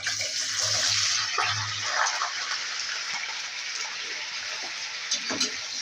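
Finger-cut potatoes drop into half a cup of hot oil in a pan, giving a steady broadband sizzle that swells loudly at first then settles into a continuous hiss, with a voice talking over it.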